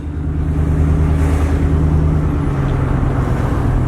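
A rebuilt single-cab Chevrolet Silverado pickup, repaired after a wreck, drives steadily with a loud, continuous low engine and road drone that stays even throughout, with no voices.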